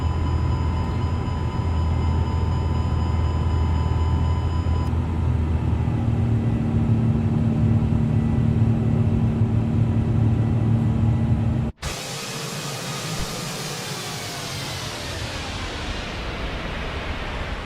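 An Airbus A350 in Microsoft Flight Simulator 2024 rolls and departs with a steady, loud jet engine roar and rumble, then shifts abruptly into a brighter, rushing roar as the climb continues.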